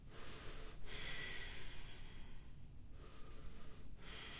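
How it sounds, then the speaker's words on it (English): Deep, slow yoga breaths held during a pose: long airy inhales and exhales, close and steady, with brief pauses between them and no talking. "Last couple of breaths, guys."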